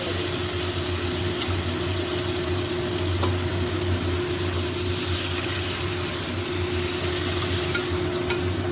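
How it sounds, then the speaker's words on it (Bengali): Lentils hit a pan of spice masala being fried for a mixed-vegetable dal, giving a steady close sizzle with a few faint clinks and no speech. "মশলাটা কষানো হয়ে যাচ্ছে, এবার ডালটা দিয়ে দেবো।"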